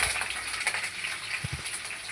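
Green chillies fry in hot oil with mustard and cumin seeds, giving a faint, steady sizzle with soft crackles and a couple of low knocks from the pan.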